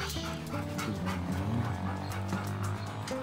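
Several dogs pant and whimper nonstop close by in kennel cages at a campground, with high whiny yelps over rapid breathing and a constant hum of background noise.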